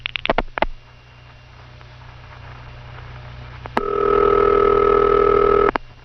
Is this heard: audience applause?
no